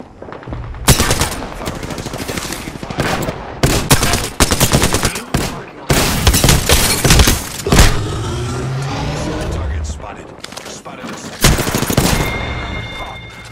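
Close, loud automatic gunfire in the battle royale game Apex Legends, repeated bursts of rapid shots with brief gaps, over other game sounds and a short stretch of quieter activity.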